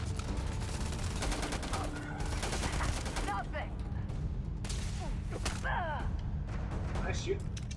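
Gunfire rattles through a session of the video game Starfield, a steady dense fusillade of rapid shots and bursts that runs loud and continuous throughout, with a player's voice breaking in briefly over it.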